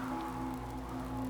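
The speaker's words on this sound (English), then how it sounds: "Outside, the rain still fell." Soft, continuous patter of rain falling in a 1940s-style radio drama setting, an even low wash with a faint steady hum beneath and no voices.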